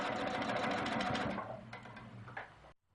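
A sewing machine quilting a pieced quilt border whirs in rapid stitching bursts, then slows to a few short separate runs and stops, close and fairly quiet.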